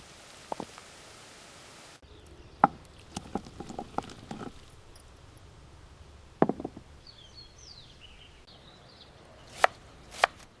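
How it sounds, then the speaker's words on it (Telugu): Tomato and tamarind chutney pounded by hand in a village-style mortar after a splash of water, irregular dull thuds and sharper knocks with gaps, close and moderately loud, no talking. "చివరగా కొద్దిగా నీళ్లు చల్లి మరోసారి బాగా దంచుకుంటే పచ్చడి సిద్ధం"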